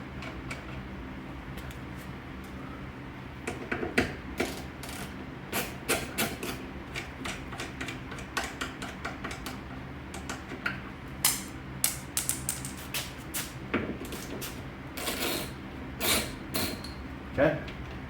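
A ratchet loosens T40 Torx bolts on the hatch latch of a Volvo 850 or V70 wagon, giving sharp intermittent clicking bursts and ticks close by, with soft talk in between.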